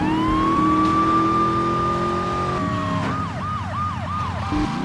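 Ambulance siren in the video game Grand Theft Auto III: a steady tone gives way to rapid, repeated wailing sweeps over a loud, continuous vehicle engine rumble.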